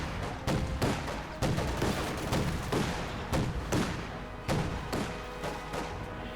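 Heavy mortar fire in the strategy video game Company of Heroes 2, a series of muffled thumps and blasts at irregular intervals over a constant rumbling battlefield background.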